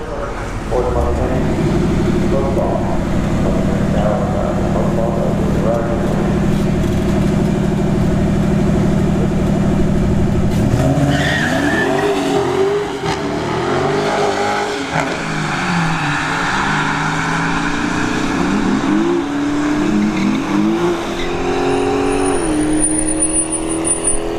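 Drag race cars at a strip, with a 392 Scat Challenger in the right lane, loud steady engine roar building, then a hard launch at about eleven seconds into surging, fading acceleration, under constant crowd and announcer noise.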